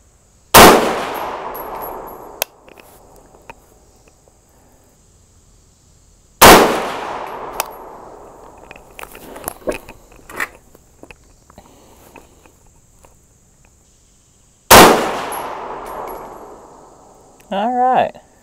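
Three loud, sharp 6.5 Grendel rifle shots firing 123 grain ELD-M and AMAX bullets ring out several seconds apart, each decaying quickly. Crickets chirp and small clanks of handling fill the gaps between shots.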